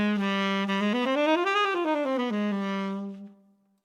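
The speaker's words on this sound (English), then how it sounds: "Just start on the 5th note of C harmonic minor and play" The fifth mode of C harmonic minor, starting on G, is played as a smooth run up the scale and back down on a sustained, clearly pitched instrument, alone and close, ending on a long held note that fades out.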